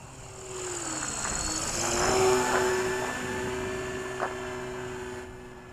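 RC autogyro, a MIA MTG gyrocopter, flying with its rotor and motor, a steady buzzing hum whose pitch slides down and then rises again, moderately near and continuous throughout.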